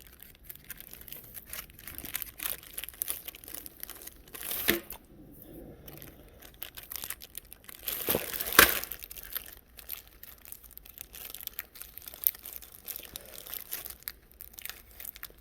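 Ziploc plastic bag crinkled and handled on a workbench, a steady run of soft rustling and crackling with a sharper crunchy burst partway through.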